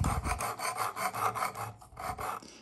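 Lenox knife blade stroked against the stone of a Work Sharp Precision Sharpener, a near rasping scrape repeated in quick back-and-forth passes with brief gaps.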